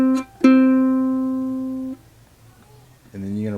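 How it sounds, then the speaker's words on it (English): A single string is plucked three times for an 'Ulili E lesson: a short first note, a clear ringing second note that sustains for over a second, then a lower third pluck after a pause. "You're going to pluck it 3 times. Okay, so just pluck that 3 times."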